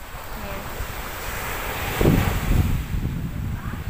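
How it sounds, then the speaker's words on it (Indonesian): Ocean waves at Tanjung Bayang beach by a seaside café gazebo, a low rolling surf rumble mixed with heavy wind buffeting on the microphone, swelling louder midway through. "Ini ombak-ombak yang ada di Tanjung Bayang"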